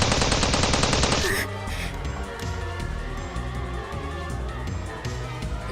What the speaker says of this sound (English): Moeka pressed the gun into Maho's hands and kept firing.